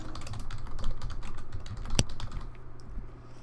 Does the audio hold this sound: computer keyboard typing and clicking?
yes